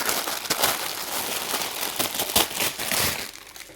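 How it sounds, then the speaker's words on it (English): Continuous crinkly rustling of plastic packaging around resin moulds, steady and close, with irregular louder crackles throughout. "Excuse the rustling."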